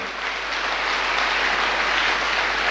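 An audience at a success-support seminar applauds, with dense, steady clapping that stays full and even throughout and no speech over it.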